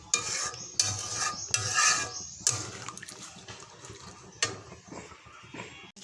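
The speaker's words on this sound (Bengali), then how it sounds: "এবার একটু জল দিয়ে দেবো। জল দিয়ে ভালো করে এটাকে একটু ফুটতে দিতে হবে।" Water poured into simmering chicken kosha in a pan and stirred, bursts of splashing and scraping broken by short pauses, with steady bubbling and sizzling beneath, close and fairly loud.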